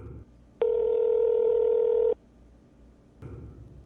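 A single steady electronic phone tone sounds for about a second and a half, followed by quiet and a faint rustle.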